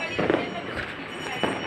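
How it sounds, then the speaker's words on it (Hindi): Diwali firecrackers burst at a night celebration, a few sharp cracks and booms, fairly near, over a steady background of crowd noise and distant popping. "अब बस अब बहुत देर हो चुकी है, अब पटाखे फोड़ेंगे।"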